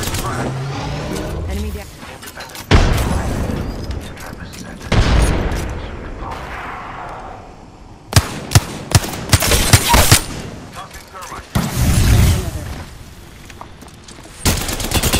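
Gunfire crackles through a video game firefight in bursts and sharp single shots, with heavy booming volleys and brief quieter gaps between them; a voice talks briefly over the shooting.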